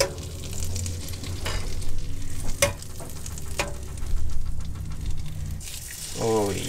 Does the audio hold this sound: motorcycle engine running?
no